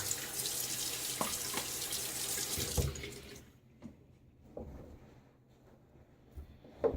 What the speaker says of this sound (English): Splash my face with a little water.